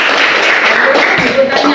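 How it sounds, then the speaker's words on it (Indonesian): A class of students applauds a classmate after a group presentation, a dense, steady patter of many hands clapping at close range, with voices mixed in throughout. "Oke, kasih tepuk tangan untuk temannya."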